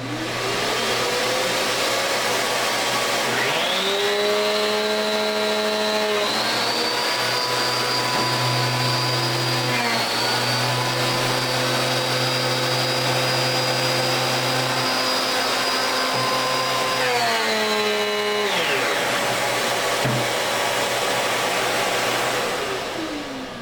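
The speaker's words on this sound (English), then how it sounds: "So I'm going to go ahead and turn the vacuum on." A Prolux QX series canister vacuum cleaner with power head runs steadily with a loud whining motor hum, its pitch rising and falling as the suction changes, no voices.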